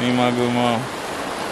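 A river at Bushkill Falls, Pennsylvania, rushes as a steady broadband wash, with a person speaking over it at the start before the water carries on alone.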